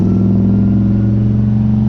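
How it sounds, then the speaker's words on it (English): A car engine revs steadily at close range with a deep, even drone and strong low harmonics, held constant throughout with no voices. "Let's get a good drive-by."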